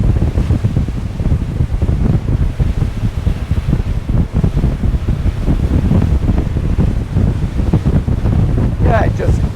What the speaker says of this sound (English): I am finding I'm having to raise my voice a bit, but that's much more to do with the wind noise rather than the engines.